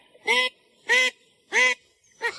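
Call ducks quack loudly in four separate harsh, nasal calls, evenly spaced about half a second apart, close and clear against silence.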